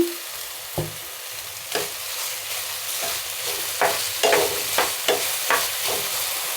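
Finely chopped curry leaves are stirred in a hot frying pan while cooking a vegetable filling, with a soft sizzle under repeated scraping strokes that grow quicker and louder toward the end.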